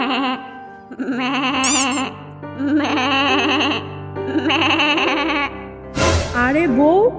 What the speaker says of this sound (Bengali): ছাগলটা এমন করে ভ্যাবাচ্ছে কেন?